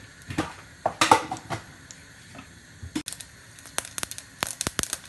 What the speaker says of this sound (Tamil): கடுகு ஒடிக்க தொடங்கிட்டு